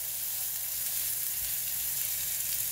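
Turkey meat searing in a hot pan gives a steady, close sizzle and crackle of frying that holds unbroken for about three seconds, with no voices over it.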